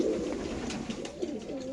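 A racer pigeon coos softly in a low, steady murmur, a handful of gentle rolling calls held close by in a quiet indoor setting.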